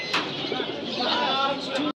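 Pigeons at a busy pigeon market in Jinjira, Bangladesh, cooing and chirping close by in a steady murmur, with people talking over the birds throughout.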